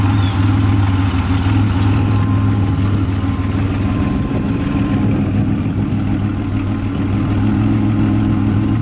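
A 1987 Buick Grand National idles with its exhaust cutouts closed through turbo mufflers, a loud, steady, deep rumble close by that holds throughout, with no talk.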